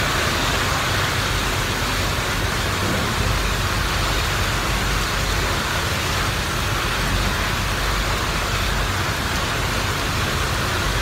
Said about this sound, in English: It is crazy pouring out here.